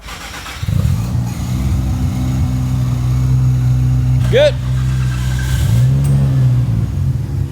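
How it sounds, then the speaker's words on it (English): Japanese sports cars, a Nissan Skyline, Toyota Supra and Mazda RX-7, start up and idle with a steady low engine rumble, then a brief rev rises and falls, with a second rev later and a short spoken word over it. "So we're gonna get the cars started up now"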